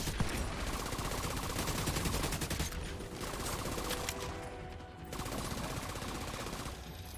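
A turret in the Division 2 video game fires rapid sustained bursts with a dense mechanical rattle, loud and close, briefly pausing between strings of shots, without speech.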